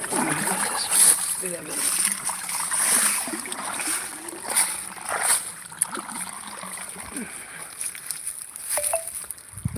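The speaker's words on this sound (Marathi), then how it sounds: "पाणी चालू आहे आपल्या कांद्याच्या रोपाला मोटर चालू केलं आहे" Steady rushing water from a motor pump pours and splashes outdoors into a field of onion seedlings, a continuous wash of noise with faint voices now and then.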